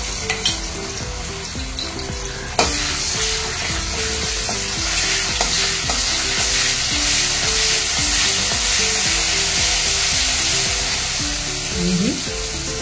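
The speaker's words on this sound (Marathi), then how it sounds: "आता याच कढईमध्ये मी भेंडीची भाजी करत आहे." Okra fries in two spoons of oil in a hot kadhai, producing a loud, steady close-up sizzle with faint stirring scrapes and a brief clatter near the start.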